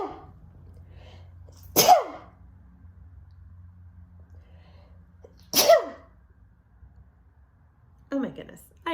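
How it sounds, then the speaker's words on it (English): Two loud, abrupt sneezes a few seconds apart over a quiet background hum, followed by a brief voiced exhale at the end. "I'm going to sneeze"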